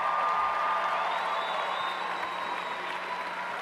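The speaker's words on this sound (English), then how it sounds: "Let's give them a round of applause." Sustained crowd applause for graduates at a 2019 Stony Point high school graduation ceremony, a steady, even wash of many hands clapping in a large hall without pause.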